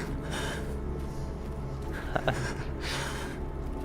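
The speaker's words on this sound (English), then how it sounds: "He's kind of quietly sobbing and heavy breathing." A video game character in S.T.A.L.K.E.R. GAMMA breathes heavily and raggedly with gasping inhales and faint sobbing, close and continuous over a low background hum.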